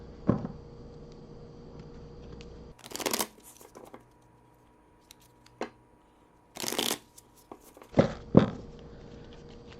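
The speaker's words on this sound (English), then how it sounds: "Let's give this a proper shuffle." A tarot card deck is shuffled by hand in several short, crisp riffling bursts with quiet pauses between them, close and clear, with no talking.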